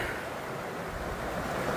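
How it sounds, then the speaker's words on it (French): Small waterfall on a river, a steady broadband rush of falling water close by and continuous throughout, with no voices over it. "Oh, une mini cascade."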